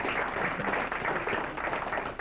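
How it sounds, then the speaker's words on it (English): A room full of listeners at a satellite news presentation applauds, a dense, steady wash of clapping that holds at an even level throughout with no talk over it. "Can I have a round of applause if you watch Yellow Rain?"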